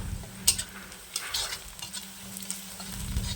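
Onion, garlic and bay leaf fry in mustard oil with a steady, fairly quiet sizzle, broken by a few sharp scrapes and clinks of a stirring utensil against the pan.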